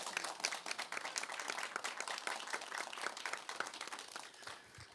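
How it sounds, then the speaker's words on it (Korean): Audience applause for a lieutenant colonel at a Korean–American alliance talk concert, a dense patter of many hands clapping steadily throughout at moderate volume. "여러분들 이 크리스마스 중령님께 큰 박수 한번 부탁드리겠습니다"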